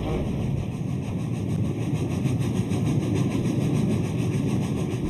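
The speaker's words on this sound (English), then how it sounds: "Tornado's staccato exhaust beats reverberate across the city." The steam locomotive Tornado, running at speed through a city, gives a continuous, loud mechanical rumble of exhaust and rolling wheels, with no clear gaps between beats.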